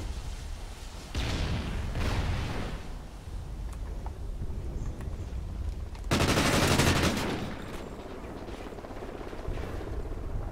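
Gunfire in an online multiplayer shooter video game, a few distant shots, then a louder rattling burst of rapid fire, with quieter bursts scattered around it.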